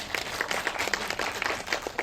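Scattered audience clapping at a film screening Q&A for the movie In Our Prime, a modest crowd applauding in a steady patter of individual claps at moderate distance, with no talk over it.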